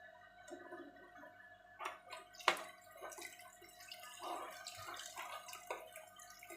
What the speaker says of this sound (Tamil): கொஞ்சம் தண்ணியும் சேர்த்துக்கலாம்